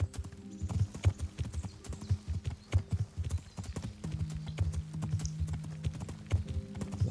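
A horse gallops in the video game Kingdom Come: Deliverance, rapid rhythmic hoofbeats pounding steadily close by, with a short break in pace midway and faint clatter over the footfalls.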